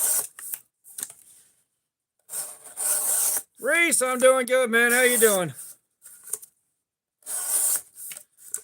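An Elmax steel knife blade is sharpened in short rasping bursts of strokes, separated by pauses, while someone speaks between them.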